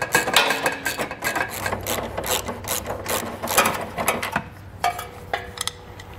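Ratchet wrench removes the exhaust hanger bracket bolts on a 2014 Toyota Prius v, making a loud, close, rapid clicking that runs in bursts, then slows and fades near the end.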